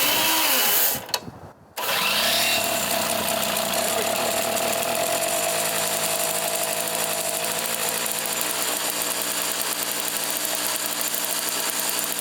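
A faulty starter gear on a Craftsman 3 hp 21-inch snow machine with a two-stroke Tecumseh engine gives a brief clunk, then a steady, loud mechanical whirring and grinding that runs on for over ten seconds.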